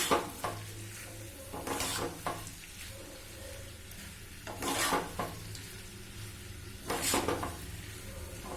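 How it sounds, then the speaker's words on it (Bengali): Potato curry with Kashmiri chilli powder is stirred in a pan: about four loud spatula scrapes at irregular intervals over a low, steady sizzle, close by with no talking. "এবার একটু নাড়িয়ে নেব।"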